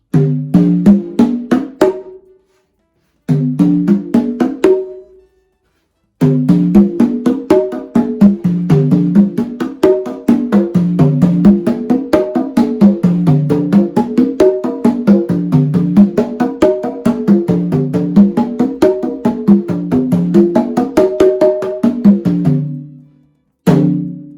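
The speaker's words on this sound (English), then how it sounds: "you can use these different pitches to create patterns and grooves on the congas" Conga drums struck in a run of pitches rising from low to high, then settling into a steady, rhythmic pattern of hand strikes, close and clear.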